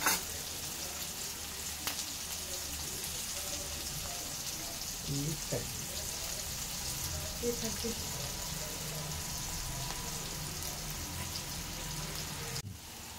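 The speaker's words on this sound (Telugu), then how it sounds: "ఉల్లిగడ్డలు ఫ్రై అయినాయండి, దూరగా అయినాయి" Sliced onions fry in a pan for a ridge gourd curry, giving an even, continuous sizzle with a few soft stirring clicks and scrapes.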